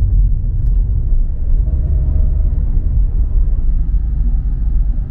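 A car drives along a road beside the Suez Canal, giving a steady, loud, low engine and tyre rumble that holds without change throughout.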